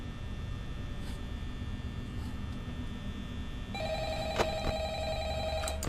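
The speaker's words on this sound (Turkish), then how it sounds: "Telefon çalıyor." In the Five Nights at Freddy's video game, a telephone begins ringing partway through with a bright, repeated electronic trill over a steady low hum.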